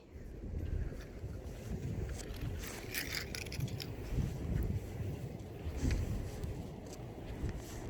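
Evening sea waves at Pak Meng beach in light rain, a continuous loud wash and rumble of surf with broad swelling roars close by, no talk.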